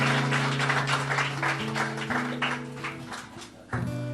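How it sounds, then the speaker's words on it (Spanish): A church congregation applauds during a worship service, a steady wash of clapping running beneath sustained music tones that shift chords, with a sharp louder burst near the end. "¿Cuántos se atreven a dar un aplauso al Señor?"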